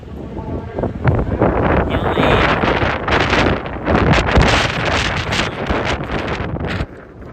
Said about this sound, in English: yeah, it's windy. You can see it's pretty windy.